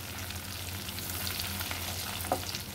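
Green chillies dropped into hot oil already holding cumin, cinnamon and other whole spices for kadai paneer, giving a steady close sizzle with a brief sharper pop near the end.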